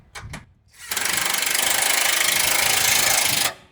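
A cordless power tool drives a motor mount bolt on a 1965 Chevrolet C10 in one steady, loud whirring run of about two and a half seconds, after a couple of short clicks and bursts.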